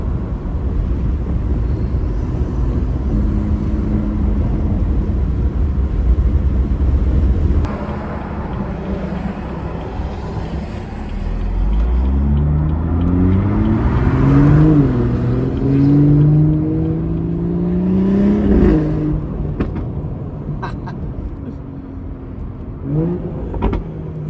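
BMW F30 340i with the B58 engine accelerating through paddle shifts, a loud engine drone giving way to rising revs, sharp shift drops and a roaring pull echoing off a nearby wall, then easing off.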